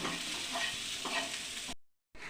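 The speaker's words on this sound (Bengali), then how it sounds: "সেই সেদ্ধ ছোলা আর মটর ছিল পেঁয়াজ দিয়ে ভেজে রেখেছিলাম যেহেতু ফ্রিজে ছিল ঠান্ডা তো একটু গরম করে নেব" Boiled chickpeas and peas, earlier fried with onion, reheating in a pan with a steady sizzle and scraping stirs, cutting out briefly near the end before resuming, no talking.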